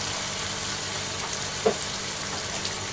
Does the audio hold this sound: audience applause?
no